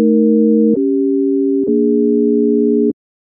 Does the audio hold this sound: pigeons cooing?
no